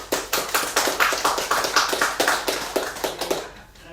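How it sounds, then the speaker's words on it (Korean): A church congregation applauds during a Sunday worship service, with brisk, even clapping that rings through the room for several seconds before tapering off and stopping. "환영합니다. 박수."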